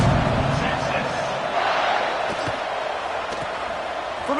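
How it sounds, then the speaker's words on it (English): A stadium crowd at an American football game buzzes after a touchdown and extra point, a dense, loud, steady roar of many voices that fills the whole stretch. "this crowd is buzzing after that last score"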